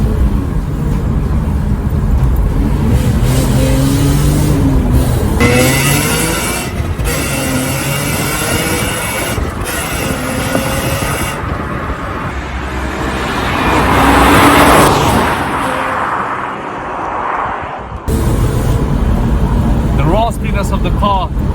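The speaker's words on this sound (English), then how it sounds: "you all can hear the straight inline 6 M3 noise." A BMW E46 M3 with its straight-six engine drives along, a loud continuous engine drone and road roar inside the car, rising and falling with the throttle while someone talks over it.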